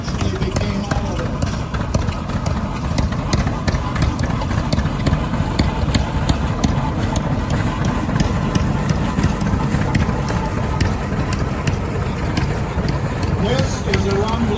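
A Rumely OilPull tractor, one of the bigger 20-30 models, runs with a steady low rumble and rapid even engine beats throughout, while someone talks over it nearby.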